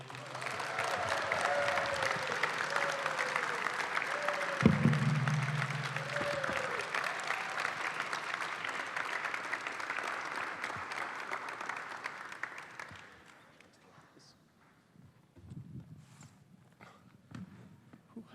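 A room full of people welcomes NBA champion Sean Elliott with sustained applause lasting roughly twelve seconds, joined by a few whoops. It then drops away to near silence with scattered faint sounds.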